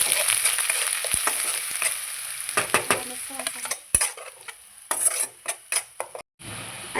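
Ground spice paste of onion, coconut, sesame and peanut fries in hot oil in a pan, a steady close sizzle broken by stirring scrapes and clinks of a utensil against the pan, with no talking.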